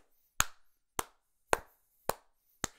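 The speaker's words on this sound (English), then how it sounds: "We got to give a clap to one of our bench players" Five slow, deliberate hand claps ring out one by one at an even pace, each sharp and isolated against near silence, in a basketball fan's reaction.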